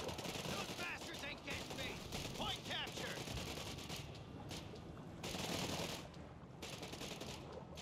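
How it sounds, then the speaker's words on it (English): Panzer Grenadiers in a strategy video game pour out long bursts of automatic gunfire. The rattling comes in dense, layered volleys at a steady level under battle noise, with an excited commentator talking over it. "That automated fire by those Prince Grenadiers and solid cover, man, it's just tearing apart those riflemen"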